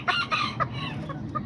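Small chickens clucking in a backyard pen, several short close clucks in quick uneven bursts, fairly clear over a low background hum.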